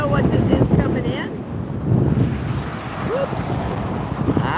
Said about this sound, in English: Today it's windy up here.